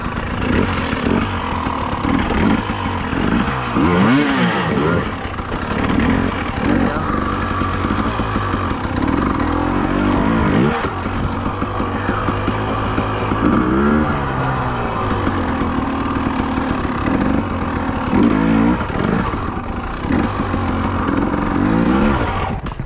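A 2020 Husqvarna TE300i two-stroke enduro motorcycle runs loud and close throughout, its engine revving up and down repeatedly in rising and falling sweeps, as during hard enduro and trials riding.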